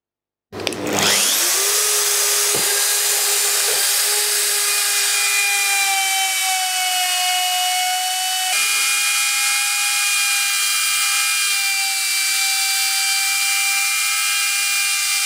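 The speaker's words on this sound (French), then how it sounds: "Avec une fraise droite, on va faire une rainure." A wood router fitted with a straight bit spins up to a high, steady whine while cutting a groove, loud and close, holding a constant pitch with a slight shift partway through.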